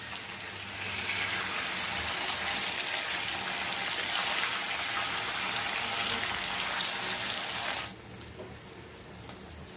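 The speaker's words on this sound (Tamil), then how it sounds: "இப்போ மீனை வறுத்துக்கலாம்." Fish sizzles in hot oil in a home kitchen, a dense, loud hiss and crackle that holds steady for most of the stretch before dropping abruptly to a quieter sputter near the end.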